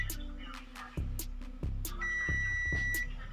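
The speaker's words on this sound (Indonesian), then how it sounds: "Dengan adanya suara avometer yang teman-teman dengar barusan itu menandakan jalur masih aman ya" Multimeter continuity beeps while probing the speaker circuit of a Samsung A10 phone: a few short electronic bleeps, with a longer steady tone near the end, close and fairly quiet against faint background noise.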